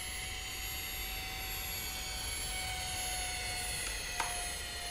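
Steady, even roar of an A-10 jet's engines in the RealFlight 9.5 flight simulator, a constant high hum with no letup and a faint click near the end.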